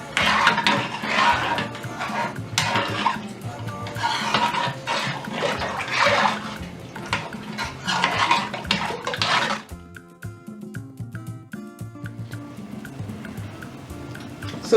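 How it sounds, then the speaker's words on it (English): Water pours into a pot of palmnut soup in a steady, splashing stream for about ten seconds, then stops, leaving quieter clinking and tonal kitchen sounds. "Add enough water."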